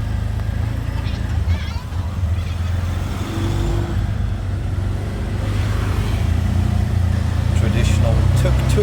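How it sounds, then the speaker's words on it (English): A traditional tuk-tuk auto rickshaw engine in Cambodia hums and builds as it pulls away, rising steadily louder toward the end, with voices chatting over it. "Traditional tuk-tuk. Let's go."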